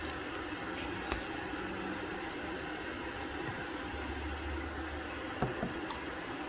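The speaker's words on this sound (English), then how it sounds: "The noise you're hearing is the water boiling." A steady low rumbling hiss of water boiling for coffee, continuous and moderately quiet, with a few faint clicks and taps near the end.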